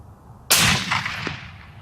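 A single loud rifle shot from a Remington 700 chambered in .300 Win Mag, a sharp close blast with a rolling echo that fades over about a second, no talk.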